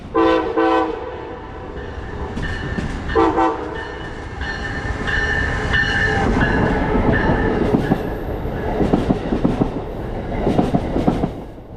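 An Amtrak train rumbles past a station with clattering wheels, and several loud horn toots sound near the start, then more blasts and clanking follow as it rolls by.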